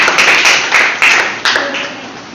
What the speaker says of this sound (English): Give a round of applause for Anushka.